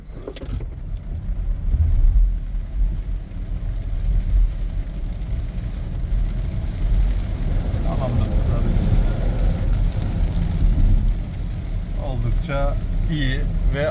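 A TOGG electric car rises steadily as it accelerates hard from 0 to 100, a smooth continuous whine with road noise, while people talk inside the cabin.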